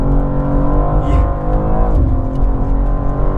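A 2023 BMW M2 G87 engine roars loud and close, a steady throaty rev with harmonic growl that rises and dips slightly over the few seconds, with no break in the sound.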